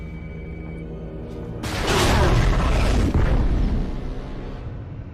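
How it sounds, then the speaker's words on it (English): In the video game Bioshock 2 a tunnel is detonated: a quiet, humming background gives way to a sudden, loud, rumbling explosion that roars for a few seconds and then fades. "Detonate the tunnel!"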